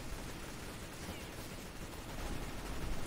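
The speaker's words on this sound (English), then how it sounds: "I can just hold down fire then" Continuous automatic gunfire from holding down the trigger in the shooter game CS:GO, a dense rattling barrage that runs the whole time and grows slightly louder near the end, with no speech.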